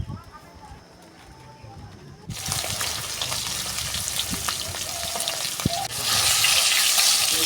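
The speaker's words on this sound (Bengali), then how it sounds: "এবার মাছগুলো ভেজে নেব।" Bhetki fish rubbed with salt and turmeric drop into hot oil, bursting into a loud, steady sizzle after a quieter start and growing even stronger toward the end.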